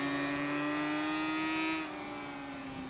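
Racing motorcycle in a Le Mans racing video game braking hard for a chicane, its loud steady engine note winding down in pitch, the sound dropping away and quieting partway through with no talk.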